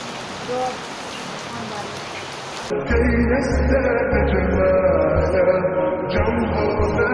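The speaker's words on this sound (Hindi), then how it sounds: "बारिश को एंजॉय करते हैं" Steady rain falls throughout, a dense hiss of drops striking a surface that grows heavier and closer partway through.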